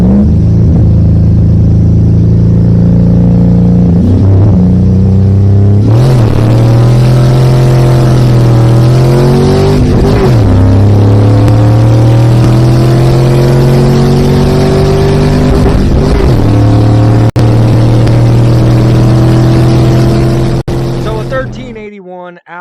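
A Chevrolet Blazer engine accelerates hard through a drag run, loud and close, its tone climbing through several gear shifts before cutting off abruptly at the end.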